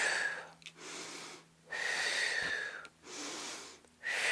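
Deep breathing during a bicep-curl exercise, with three or four long, loud, close inhalations and exhalations separated by brief pauses and no talking.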